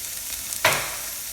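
Green chili and curry leaves hit hot oil in a pan for an Andhra-style dal, bursting into a sudden loud sizzle midway that then settles into a steady, softer frying hiss.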